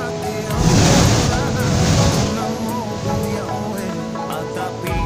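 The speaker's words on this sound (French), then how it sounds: "grâce aux vagues très puissantes ici, il souffle à une force incroyable" Powerful ocean waves drive a blowhole on the Tahiti coast, producing a loud rushing whoosh of spray that swells and fades amid steady surf and wind noise, with a voice nearby.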